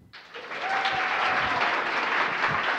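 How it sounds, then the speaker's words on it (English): Audience applause at a live storytelling show, starting abruptly and swelling into a full, sustained clatter of many hands with a faint voice or whistle briefly rising in the middle. "get the entire audience to applaud on cue"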